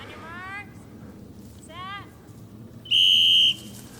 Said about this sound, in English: when the whistle blew to start the girls' race at 10 a.m. Saturday morning